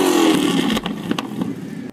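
A Ford Mustang engine revs hard, a loud rising growl at the start that breaks into a few sharp throttle blips and fades out, with no talk over it.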